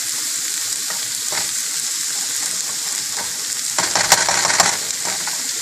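Potatoes with fenugreek leaves (aloo methi) sizzling in a pan as a spoon stirs them, a steady frying hiss with scraping and clinking building louder near the end, no talk.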